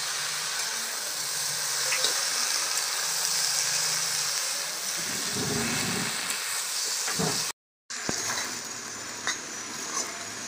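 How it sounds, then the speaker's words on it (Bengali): Pumpkin shoot greens simmering with a little water under a lid, a steady soft hiss and bubbling sizzle with a few faint clinks and a brief dropout, with no speech. "শাকটা ভালো করে মিশিয়ে নিয়ে অল্প পরিমাণ জল দিয়ে ঢেকে দেবো।"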